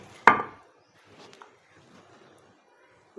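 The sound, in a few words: pounding chutney ingredients in a stone mortar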